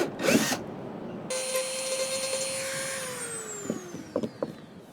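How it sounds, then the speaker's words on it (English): A Dremel rotary tool cuts a hole in a plastic RV bumper, a short loud burst followed by a steady high-pitched whine that fades and breaks into sputtering, catching bites near the end. "Those Dremels can get kind of out of control, but basically cut a hole in the bumper."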